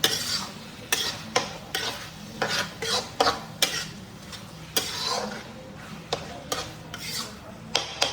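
Garlic fried in desi ghee being stirred into a home-cooked dish in a pot: repeated sharp scraping and clinking strokes of a spoon against metal come at a steady rhythm, close up and fairly loud, with a faint sizzle underneath and no talking.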